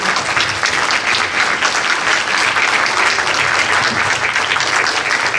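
Steady, loud applause fills a cinema as the audience thanks a director following a Q&A, many hands clapping densely and evenly without a break.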